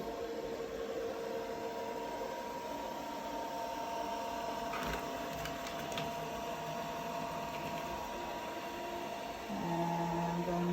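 A COSTWAY voice-controlled robot vacuum cleaner runs steadily as it circles toward a carpet, a constant whirring motor hum with faint clicks midway and a slight shift in tone near the end.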